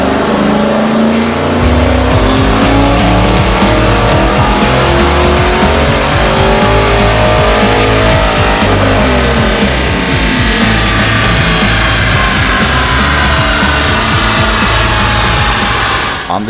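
A manual 2011 Camaro roars on a chassis dyno, engine climbing through repeated rising revs with a brief shift-like break, loud and close, harsh exhaust and drum whine filling the whole run.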